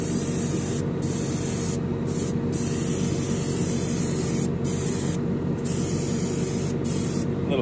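An aerosol spray can lays a heavier, wetter second primer coat on a Ferrari SF90 Spider model car body, a loud, close continuous hiss broken by several brief pauses.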